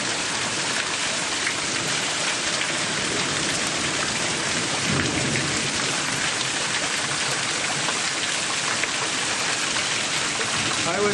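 A hail storm with 60 mph wind gusts hammers a house roof and clogged gutters, a loud dense unbroken roar of hailstones and rain pounding surfaces with rushing wind throughout, no voices heard.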